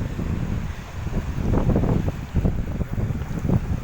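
Gusty wind buffets the microphone beside a river, a rough low rumble that swells and eases in uneven puffs, close and fairly loud, with no talking.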